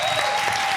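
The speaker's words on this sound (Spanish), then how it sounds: "Un aplauso para ellos." A short burst of applause for guests at a restaurant interview, steady dense clapping with a faint tone running underneath.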